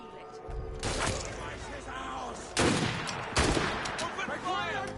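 Gunfire in Assassin's Creed Syndicate: loud broadband bursts of shots at roughly one, two and a half, and three and a half seconds, mixed with game sound and excited voices talking over the action.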